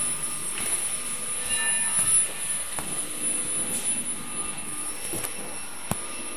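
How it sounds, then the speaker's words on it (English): A 1+1 servo motor face mask machine runs steadily, a continuous mechanical hum with a high whine and faint periodic clicks, no talking. "This is a 1+1 servo motor face mask machine."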